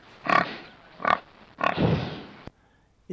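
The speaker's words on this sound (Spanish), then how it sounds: "Claro, los chanchos." A pig grunts and oinks several times in short bursts, fairly close, followed by a longer snuffling grunt and a brief quiet pause.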